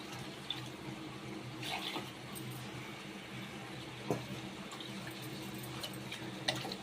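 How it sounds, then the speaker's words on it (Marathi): Water is poured into a simmering prawn masala for a Khandeshi prawn curry, a soft, faint continuous trickle with a few small splashes. "बघा मी आता त्याच्यामध्ये पाणी टाकणार"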